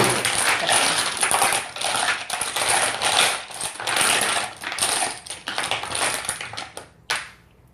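Four dice tumble and rattle across a hard surface in a dense, continuous clatter lasting several seconds, ending with a sharp final click as they come to rest.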